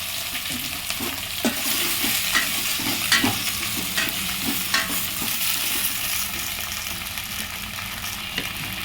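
Chopped vegetables, drumsticks and carrots among them, tempering in hot oil for Andhra sambar, hiss and sizzle steadily while a spoon scrapes and stirs in irregular clicks, close and continuous with no talk.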